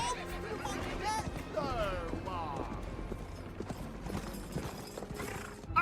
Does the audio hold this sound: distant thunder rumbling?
no